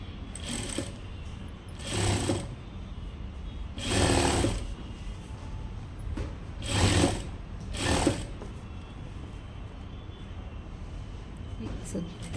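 Sewing machine stitching a small folded hem on a boat neck blouse, running in five short bursts of rapid mechanical whirring separated by pauses, with a voice speaking between runs.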